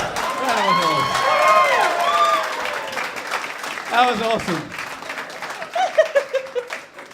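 A live audience in Melbourne claps and cheers at a comedy podcast recording, with loud applause over the first few seconds that thins into scattered claps while voices talk over it.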